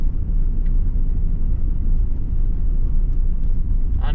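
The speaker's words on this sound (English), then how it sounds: "There's an oncoming car." A car approaching head-on along a narrow Welsh country road, heard as a loud, steady low engine rumble and tyre roar close by, continuous throughout with a faint higher rattle at the very end.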